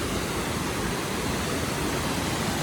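A waterfall pours in an unbroken, rushing roar, a dense steady wash of water noise with no pauses and no voices over it.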